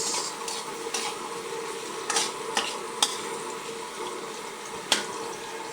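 Garlic and onion sautéing in a pan for a Filipino chicken tinola, a quiet continuous sizzle broken by several sharp spatula scrapes and taps against the pan.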